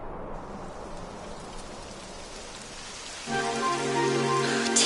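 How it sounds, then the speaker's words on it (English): Rain falling in the video game Dragon Quest XI, a steady hiss of rainfall that swells slightly, joined near the end by a sustained tonal music chord. "It would have to go and start raining, wouldn't it?"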